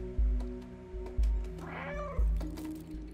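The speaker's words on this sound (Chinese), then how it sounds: "按下可以学猫叫啊！" A cat meowing in the video game Stray, with several short meows and a longer drawn-out call, clear and close over a low rhythmic pulsing background.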